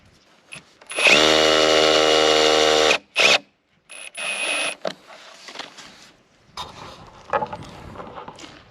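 Power drill sinking a screw into a wooden gate plank: one loud steady two-second whir, a short burst after it, then quieter handling and workshop noises.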